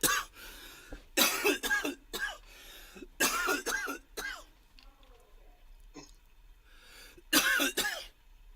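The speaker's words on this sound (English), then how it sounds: "she hears me coughing" Repeated bursts of harsh coughing and throat clearing, several clusters separated by short pauses, loud and close.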